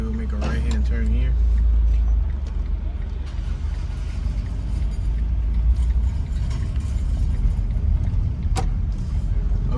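Car rolling through New Orleans 7th Ward streets and turning right, a steady close road and engine rumble with low tire noise, plus a brief sharp click near the end.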